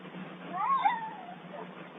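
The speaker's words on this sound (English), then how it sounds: "And the motherfucker came to meow." A very fat, large cat meows once, a drawn-out, wavering meow at close range, clear and moderately loud over a quiet room.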